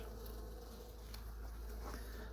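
Honey bees hum in a steady, dense drone from an open hive during a winter inspection, close and continuous, with no talking.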